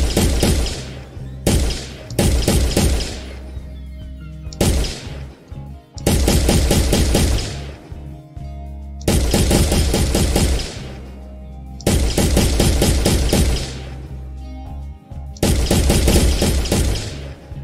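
Rapid bursts of rifle gunfire in an Unreal Engine 4 third-person shooter game, loud repeated volleys separated by short pauses, with no talking.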